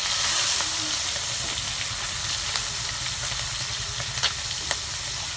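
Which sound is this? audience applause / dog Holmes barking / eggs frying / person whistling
eggs frying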